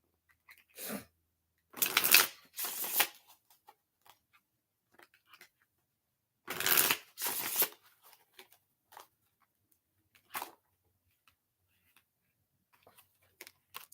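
Oracle cards being shuffled in short bursts of riffling, papery flutter, close and fairly soft, with quiet gaps and small taps between them and no speech.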